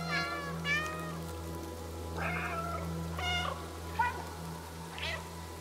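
A cat meows repeatedly in the video game Stray, several short, close calls spread over a few seconds against a steady backdrop of rain patter and low hum, with no talking.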